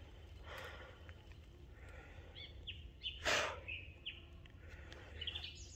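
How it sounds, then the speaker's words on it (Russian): Birds chirp and call in the taiga forest, several short whistled notes scattered over a steady low background hum, with a brief louder burst in the middle; no talking. "Птички забуздыривают."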